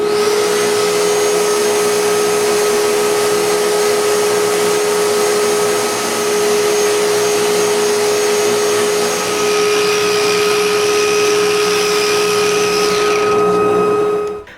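A power sander works over the interior faces of wooden night stand parts, a loud, steady motorized whine with a constant tone held almost without pause for the whole stretch before cutting off at the end.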